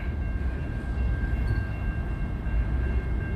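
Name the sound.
train passing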